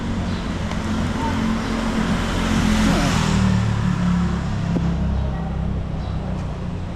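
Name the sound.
passing cars on a city street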